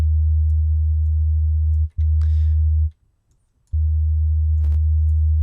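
A low steady sine-like tone from FL Studio's Fruity Chorus effect with a sine-wave LFO, holding loud and constant, dropping out briefly twice, with a few faint clicks over it.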